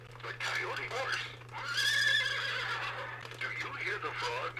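A Mattel See 'n Say toy plays its recorded horse neigh, a single tinny, warbling whinny with a faint hum beneath, close and moderately quiet.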